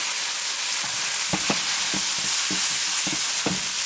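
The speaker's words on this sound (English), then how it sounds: "You want to make sure you saute these very well until they're nice golden brown." Potato gnocchi sauté in oil with garlic in a pan, giving a steady close sizzle broken by repeated scraping stirs about every half second.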